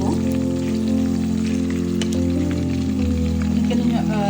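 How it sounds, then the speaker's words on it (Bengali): Onions fry in mustard oil with a continuous crackling sizzle, steady and close, over a low kitchen hum. "এখানে সরিষার তেলের মধ্যে পেঁয়াজ দিয়ে দিলাম, এগুলো ভাজা হোক।"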